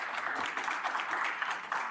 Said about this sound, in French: Viken, merci à toi. Merci. Franchement, applaudissez-le s'il vous plaît.